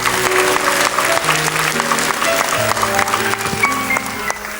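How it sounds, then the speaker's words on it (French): Studio audience clapping for a young girl named Karine on a 1977 French children's talent TV show, steady and fairly loud, with a music-like tonal bed underneath and no speech. "Très fort, on applaudit Karine."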